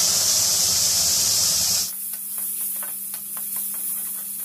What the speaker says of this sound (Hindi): अब मैं इसमें टमाटर और अदरक का पेस्ट ऐड कर दूंगी